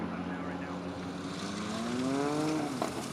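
A STOL aircraft landing at an air race, its engine drone easing off as power comes back, with a falling propeller tone near the end under steady crowd and wind noise.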